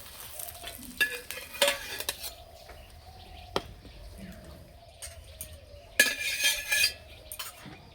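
Egg paratha fries in a pan, a soft sizzle with intermittent scraping and clinks of a spatula or utensil against the pan, quiet and close.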